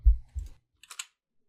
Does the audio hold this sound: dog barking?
no